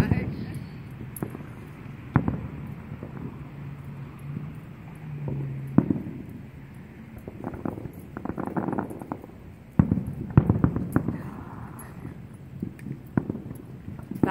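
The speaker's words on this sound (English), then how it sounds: "We didn't have to go too far to see the fireworks right here in the park." Fireworks go off in an RV park near Apache Junction, Arizona, as scattered sharp pops and bangs of varying loudness, some distant and some closer, with faint murmuring voices in between.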